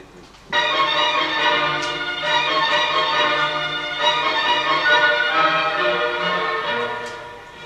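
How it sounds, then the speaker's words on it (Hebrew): Sustained orchestral classical music from the end of a sonata exposition, with rich harmonic tones, played steadily at moderate loudness without talking. "מה שאנחנו שומעים עכשיו זה את סוף הסקשן שנקרא Exposition"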